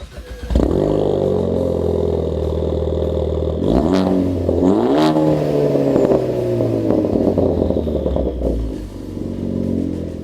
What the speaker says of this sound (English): let's fire it up and see how it sounds.